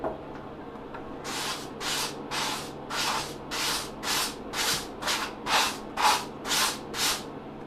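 A machine vise being cleaned with about a dozen regular rhythmic rubbing or brushing strokes, each a short hissy swipe, close and fairly loud, with no talking.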